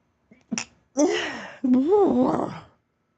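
A person's voice imitates sneezing with three exaggerated, voiced 'achoo' bursts in quick succession, the last two drawn out and rising and falling in pitch, close and fairly loud.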